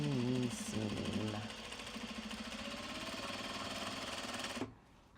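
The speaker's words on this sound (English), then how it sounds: "Sew across the ending seam." Sewing machine stitching across the end seam of a Japanese fabric bag, a steady fast mechanical whir with rhythmic needle clatter that stops abruptly near the end, with brief talk at the start.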